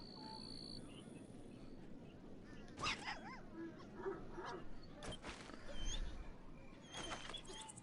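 Dogs bark and yip at a distance inside the video game Tera, scattered short calls over a steady game ambience with occasional louder bursts, no talk.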